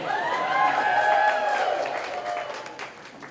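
Audience applause ripples through a hall at a fresh-water conservation summit, steady crowd clapping that swells and then fades over a few seconds.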